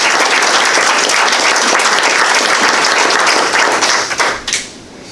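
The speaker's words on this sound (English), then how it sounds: "let's give them a huge round of applause for sharing all that" A dense, loud wash of audience applause filling the room, steady and sustained, then quickly dying away to a few last claps near the end.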